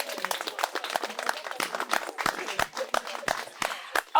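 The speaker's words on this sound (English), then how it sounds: "please can we do that applause again?" Audience clapping at a gathering, a dense burst of handclaps for several seconds with a few louder individual claps standing out.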